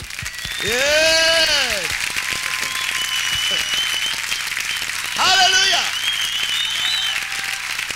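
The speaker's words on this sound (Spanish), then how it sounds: "Denle un aplauso a nuestra audiencia de televisión." A church audience applauds during a Spanish-language service, a steady wash of clapping under loud voices calling out and shouting in bursts.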